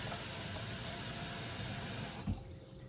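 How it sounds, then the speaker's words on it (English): Water pours steadily out of a container of tomato seeds in a continuous close splashing rush, then cuts off abruptly near the end with a last small knock. "I'm gonna pour out a little bit more there"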